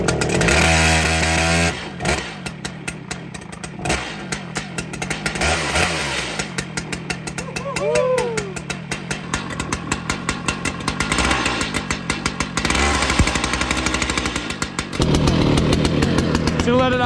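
A STIHL MS 881 chainsaw, a large production saw, runs loud and close, alternating between high revving bursts and a steadier idle throughout, with one brief lull before the engine picks back up.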